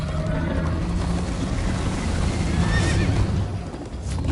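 A horse in the video game Minecraft: Story Mode whinnies during a chase, a short neigh set against a dense, loud wash of game noise and rumble.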